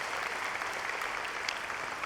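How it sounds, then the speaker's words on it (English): A graduate commencement audience applauds a registrar's office staff member, a steady, moderately distant patter of many hands filling the hall without a break. "give her a round of applause anyway"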